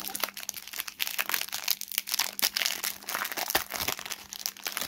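Pokémon booster packs, including 25th-anniversary and Battle Styles sets, torn open by hand, their foil wrappers giving dense, close crinkling and crackling throughout with no talking.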